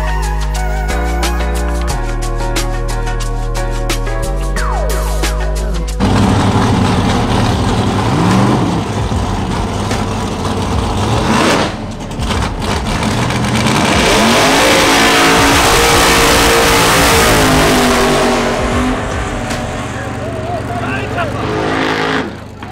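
Drag racing cars of over 1000 horsepower accelerate at a strip. A few seconds of music give way to loud, sustained engine roars and revving, with voices talking over the noise.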